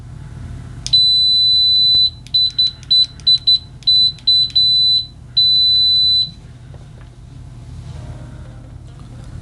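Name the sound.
Kaiweets KM-601 multimeter continuity test beep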